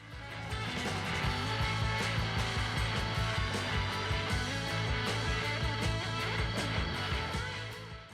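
A router fitted with a straight bit, mounted in a Rutland R15 router lift, cuts wood along a template with a loud, steady, dense whirring roar that runs unbroken from start to finish.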